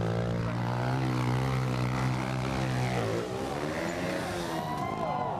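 A kids' 110cc motocross bike engine screams at full revs with its throttle stuck open during an X Games competition, a high, sustained buzzing whine that shifts pitch as the bike moves, under crowd noise.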